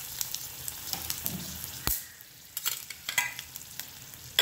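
Garam masala, broken dried chillies and bay leaves fry in hot oil in a kadhai, giving a quiet steady sizzle with small crackles and one sharp clatter midway, and no voices.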